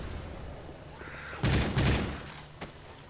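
Gunfire in Left 4 Dead 2 while shooting zombies: a couple of loud close bursts of shots, followed by a single fainter pop, over low game background noise.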